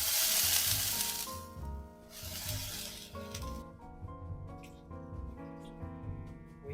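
Food sizzles in a hot cast iron sauté pan with a loud, hissing fry that fades after a few seconds, leaving softer crackles over background music.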